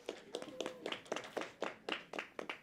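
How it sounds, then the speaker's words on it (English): Scattered applause from a modest audience at a mobility panel event, individual hand claps coming in uneven bursts, fairly quiet and slightly distant, with no talk over it. "can we give Emma a bit of a round of applause"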